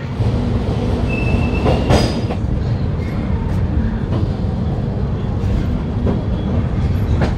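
Inside the 22807 Chennai Central AC superfast express as it leaves Kharagpur Junction: a steady loud rumble of wheels on rail with rhythmic clicks and occasional faint squeals, no speech.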